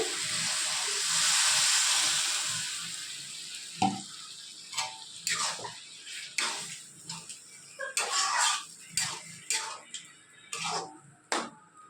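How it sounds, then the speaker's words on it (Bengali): Water poured into a hot pan of Bengali mocha (banana flower curry) gives a loud, rising steam hiss for a few seconds, followed by a string of scattered clinks and scraping sounds as cooking continues. "এবার জল দিয়ে দিচ্ছি এর মধ্যে"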